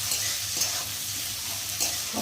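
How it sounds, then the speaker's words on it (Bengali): A steady, close sizzle of onions frying in a pan, with a couple of light stirring scrapes and no talking. "এদিকে পেঁয়াজটা একটু ভেজে নেবো"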